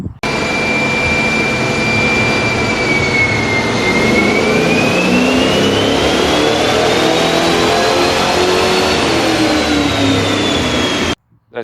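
A 1971 Chevrolet Chevelle V8 engine revs hard on a dyno, a loud continuous roar sustained for about eleven seconds with pitch dipping and climbing, then cutting off abruptly.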